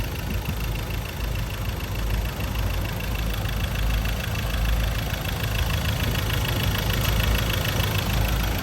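A 2016 Ford Ranger FX4 Hi-Rider with a 2.2-litre diesel engine and six-speed manual gearbox idles steadily nearby, a continuous low rumble with even knocking pulses and no voices.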